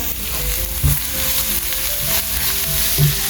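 Ginger garlic paste frying in a pan gives a steady, close sizzle with a couple of light clinks along the way.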